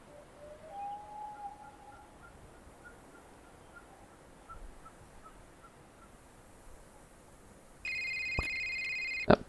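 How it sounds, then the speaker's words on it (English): A cell phone rings in a video game, a synthetic tone with steady harmonics that starts near the end and cuts through a quiet outdoor ambience with faint bird chirps. No one speaks. "that's the cell phone call we're waiting for"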